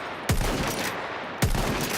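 Two sharp gunshot blasts from a shooter video game set among tornadoes, the first near the start and the second just past the middle, each with a booming low end and a trailing rumble.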